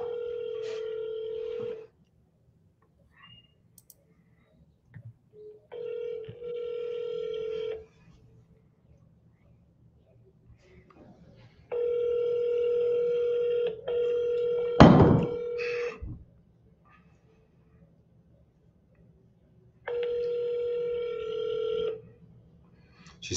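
Ringback tone on an outgoing phone call: steady electronic rings in regular bursts of about two seconds with silent gaps between, clear and near, with a thud in the middle.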